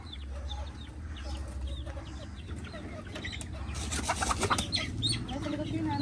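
Backyard chickens, including a mother hen in a new coop, cluck close by in soft repeated bursts that grow busier and louder toward the end, with a few voices in the background.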